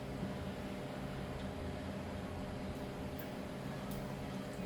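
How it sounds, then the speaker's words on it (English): A chicken cutlet frying in hot oil gives a steady, even crackling hiss that stays constant and fairly quiet throughout, with no speech over it. "Now that's sizzling."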